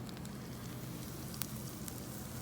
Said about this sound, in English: Just frying in the oil.